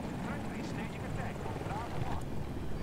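A helicopter in a video game gives a steady, loud rotor and engine drone throughout, with no break in the noise.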